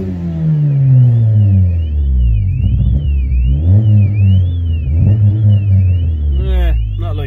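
Revved hard, a Mini with a B16 VTEC engine lets out a loud, close engine roar that climbs and falls in repeated bursts, with a warbling whine above and someone speaking through it.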